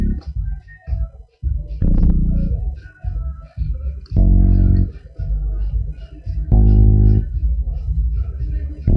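A deep electronic bass from a loop-based dance beat pulses in short, heavy, booming notes with gaps between them, loud and close, played alone without talk.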